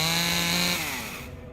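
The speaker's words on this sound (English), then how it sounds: "Chainsaw noise." A chainsaw roars as a jump-scare sound in the video game Spirit Hunter: Death Mark, loud and close at first with a steady engine whine, then slowing and fading over about a second and a half.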